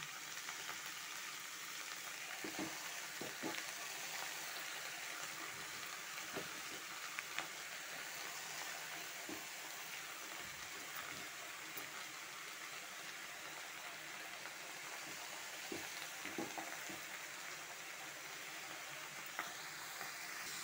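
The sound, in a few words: pumpkin leaves frying and sizzling in a pan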